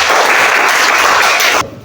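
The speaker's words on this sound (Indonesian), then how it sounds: "Semua tepuk tangan dulu buat ini Novel" A crowd at a gathering gives dense, loud applause of many hands, sustained and even before cutting off abruptly near the end.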